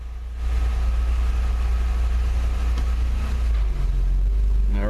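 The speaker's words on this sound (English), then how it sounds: "I'm going to drop it into drive." An Acura TL with a parking fault in its BDGA transmission shifted into drive: after a brief quiet start the engine settles into a steady, close, low idle hum, with a faint rising whine near the end.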